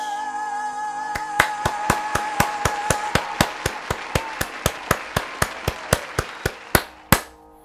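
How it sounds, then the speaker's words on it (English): Two dozen sharp claps ring out in a steady rhythm, loud and close, over a fading musical tone. "Definitely gotta clap it up for that one."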